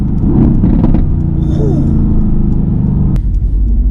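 A Mercedes-AMG GT S engine rumbles loud and close from inside the cabin, with rapid throttle blips and a sharp crack near the end as it downshifts.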